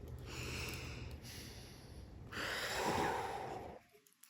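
Slow, deep breaths taken in and let out during a calming children's breathing exercise, three close airy swells of inhale and exhale ending in quiet.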